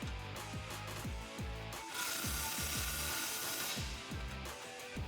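Rapid clicking ratchet strokes from a 15mm ratchet tightening the exhaust tip clamp on a 2015-2017 Mustang GT with a Pypes cat-back, in repeated quick bursts with brief pauses, close and clear.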